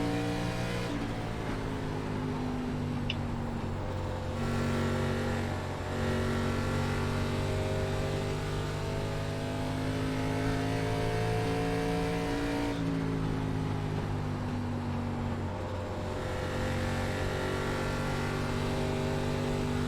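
Race car engine in an ARCA racing video game at Iowa, a steady loud drone of sustained revs with slight pitch shifts as the car holds speed, running alone without talk.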